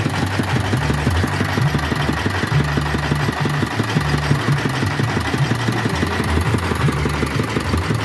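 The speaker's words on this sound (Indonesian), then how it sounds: "mesin dompeng diesel dikaitkan dengan fan bell dan poli roda ban mobil" Diesel dompeng engine driving a kora-kora swing ride at a night market independence festival, belted through a fan belt and pulley to a car wheel; a loud, close, steady rapid chugging knock throughout.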